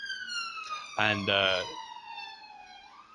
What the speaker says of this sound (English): I don't know if you could hear that siren going on in the background